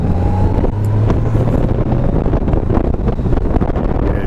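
A 2019 Honda Goldwing motorcycle pulling away from a stop in second gear, with a steady engine drone rising under heavy wind buffeting on the microphone, close and loud throughout.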